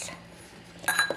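A milk and condensed milk mixture for maja blanca being stirred in a bowl, mostly quiet and then a few bright spoon clinks against the bowl near the end.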